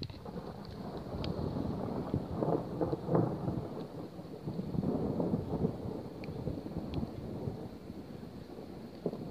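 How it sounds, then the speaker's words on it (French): Thunderstorm in Lœuilly, France, a long rolling thunder rumble with rain and wind noise on the microphone, loud and sustained throughout. "c'est quoi cet orage de malade?"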